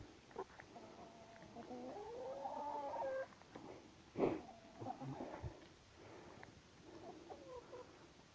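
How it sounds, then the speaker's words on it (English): Several chickens cluck and warble softly nearby, with short murmuring calls and a few sharper clucks over a quiet outdoor background. "little chickens all grown up"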